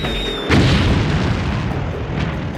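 A 500-pound aircraft bomb exploding: a sudden loud deep boom that rolls into a long rumbling roar, heard alone.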